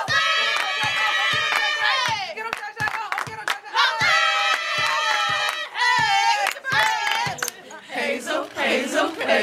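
Basketball crowd at Target Center cheering for the Minnesota Lynx in a playoff game, loud high-pitched shouting and cheering in surging waves punctuated by rhythmic sharp claps or thundersticks, with some speech.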